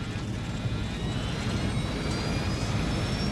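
Jet airliner engines at maximum thrust during a go-around with flaps at 15 give a steady, dense, broadband roar with no pauses and a faint high whine.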